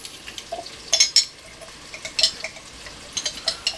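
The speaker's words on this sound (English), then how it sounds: "So we'll get these onions going and sauteing." Onions sauteing in a pan: a quiet sizzle punctuated by quick clinks and scrapes of a utensil against the pan in uneven bursts, close and soft, with no one speaking.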